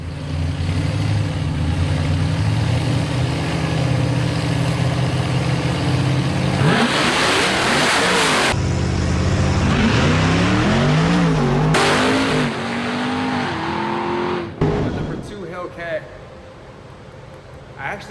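A Hellcat grudge race car accelerates hard, its engine a loud sustained roar that rises in pitch through the gears, with a brief break and a second surge before the sound cuts off near the end.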